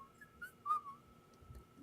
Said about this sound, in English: He's just like he's whistling the entire time